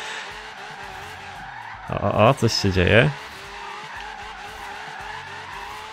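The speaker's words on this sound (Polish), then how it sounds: "Musimy chyba bardzo wolno jechać tym samochodem, żeby ten drift jakkolwiek wychodził." A Lamborghini Centenario drifts in Forza Horizon 3, with a loud burst of squealing, skidding tires lasting about a second over a steady engine drone, while someone speaks briefly.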